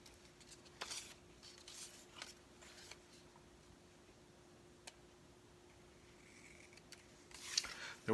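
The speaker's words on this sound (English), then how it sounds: "take our scissors and just give it one snip across" Scissors snip across difficult paper being prepared as football-season headings, giving a few sharp, quiet clicks spaced through a near-silent room and ending in a louder snip.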